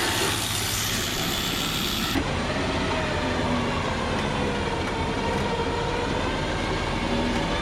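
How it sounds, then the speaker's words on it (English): A Warn VR EVO 8000 winch hauls a car up onto a Big Tex 70CH car hauler, a steady loud mechanical drone that runs unbroken from start to finish with no talk over it. "So far the winch is doing really good"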